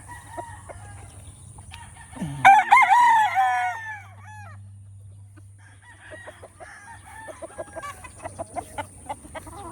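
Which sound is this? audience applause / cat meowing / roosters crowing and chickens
roosters crowing and chickens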